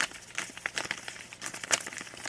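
Paper cards or slips are shuffled close by, giving a quiet run of irregular crinkling, flicking and rustling bursts with no talking.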